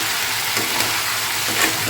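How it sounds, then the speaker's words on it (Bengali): Mustard seeds, cumin, nigella seeds and green chillies fry in hot oil, giving a brief, continuous crackling sizzle heard close up with no talking. "এখন এটা ভাজা করে নেবো"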